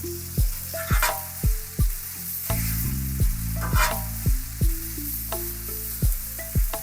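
Noodles fry with butter and garlic on a Blackstone griddle, a loud steady sizzle broken by repeated rhythmic scraping and tapping of a spatula as they are tossed and flipped.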